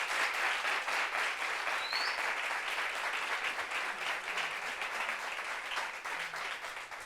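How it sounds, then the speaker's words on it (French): A studio audience keeps clapping for a guest on a talk show, a sustained wash of many hands at a steady, fairly loud level, with a faint whistle briefly rising above it. "Applaudissements, applaudissements."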